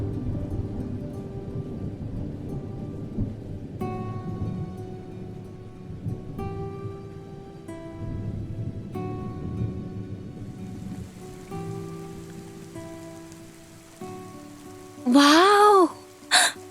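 Rain with thunder in a dramatic movie scene, a continuous wash of falling rain with low rumbles underneath, tonal music lines running through, and a brief loud voiced burst near the end.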